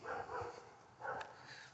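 A dog barks in the distance, two soft muffled bursts amid low background noise.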